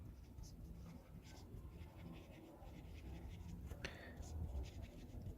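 Soft scratching of a pen or marker writing physics formulas for projectile motion, faint, continuous strokes with a few sharper taps, heard under low, close talk.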